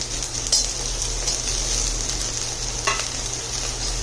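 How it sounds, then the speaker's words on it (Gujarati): Onions and tomatoes fry and get stirred in a pan for a fish sambhar gravy, a steady close sizzle broken by a few scraping stirs, with no talking. "ડુંગળી આવી થોડી સંતરાઈ જાય એટલે આપણે એમાં ટમેટા એડ કરી દઈશું"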